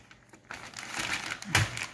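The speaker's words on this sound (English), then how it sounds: "we're gonna put the meat inside a Ziploc bag" Ziploc plastic bag crinkling as raw seasoned steak is put inside, a close rustling burst building after a quiet start with a sharper crackle near the end.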